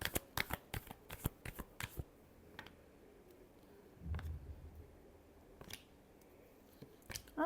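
Tarot cards shuffled in quick bursts of crisp riffling flicks, close and clear, with pauses between and a soft low thump midway.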